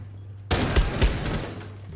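Gunfire in Rainbow Six: Siege, a sudden burst of shots breaking in after a quiet start, with two heavy reports standing out among rapid firing that rings on close and loud.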